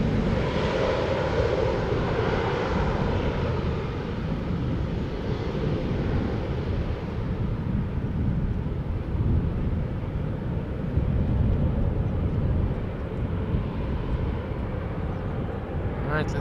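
An Embraer jet passes at Schiphol Airport with a sustained, loud engine roar that slowly shifts in tone, while a person talks over it.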